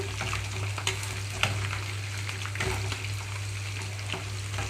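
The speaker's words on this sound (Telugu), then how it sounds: "తాలింపు గింజలన్నీ చక్కగా కలర్ మారేటప్పుడే స్టవ్ ఆఫ్ చేసేసుకొని" Tempering seeds, cumin with dried red chilli pieces and asafoetida, frying in hot oil for tomato pachadi: a continuous close sizzle and crackle with a few sharper pops and stirring clinks, no voices.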